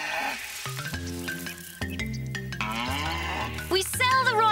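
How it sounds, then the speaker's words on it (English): A cartoon Guernsey cow moos in a long, deep, wavering call with a musical, harmonic tone, heard close and clear, followed by a short higher voice-like sound at the end. "We sell the royal cow."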